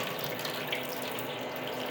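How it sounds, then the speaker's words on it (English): Water gushes steadily from a tap after frozen pipes thaw in bitter winter cold, a continuous hissing splash into a sink, faint and even with no voices. "Yeah, finally got water coming."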